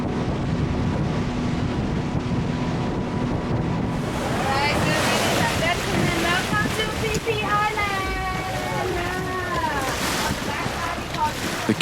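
A boat speeding across Phang Nga Bay at sunrise: constant loud wind buffeting and rushing water and spray, with a tonal, voice-like layer joining over the second half.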